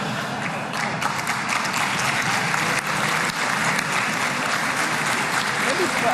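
Crowd at a Trump speech applauding: thick, continuous clapping from a large audience, loud and unbroken for the whole stretch, with talk running over it.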